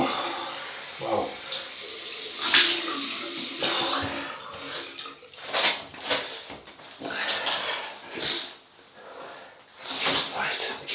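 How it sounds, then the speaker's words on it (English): Cold tap water runs into a sink for a rinse after a razor shave, with splashing and gushing bursts that rise and fall as hands and face are rinsed. "Right, cold water rinse."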